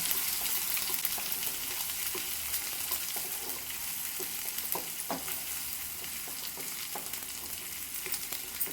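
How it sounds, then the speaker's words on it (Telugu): Ivy gourd chutney is stirred in hot oil, a steady close sizzle with scattered clicks and scrapes of the spoon against the pan, no talk. "వేసుకొని బాగా మిక్స్ చేసుకోవాలి"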